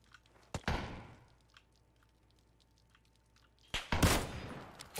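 Gunshots in the PUBG battle royale game: two sharp, loud bursts of gunfire, one early and one near the end, each with a short echoing tail, separated by a quiet stretch.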